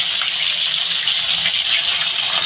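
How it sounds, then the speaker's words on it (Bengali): Hilsa fish pieces rubbed with salt and turmeric go into hot mustard oil and set off a loud, continuous, close hissing sizzle. No one speaks. "তেলটা গরম হয়ে গেছে আমি এই যে মাছগুলো দিয়ে দেবো"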